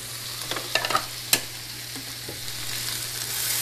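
Butternut squash and dinosaur kale being stirred in a pan, a few quick scraping strokes up close over a steady low sizzle, then mostly quiet frying.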